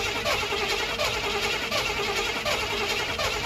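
A carbureted Chevy 350 V8 cranks and catches, its steady dense rumble and hiss filling the clip loudly with no talking.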